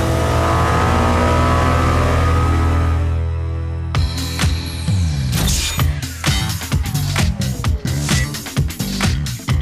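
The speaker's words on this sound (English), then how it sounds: "Suzuki's V-twin engine creates a unique heartbeat-like sound and linear power delivery." A 2016 Suzuki SV650A V-twin motorcycle engine revs hard, then a series of sharp throttle blips and roaring bursts rise and fall in quick succession, loud and close.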